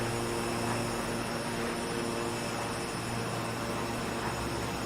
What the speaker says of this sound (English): I hear a jet.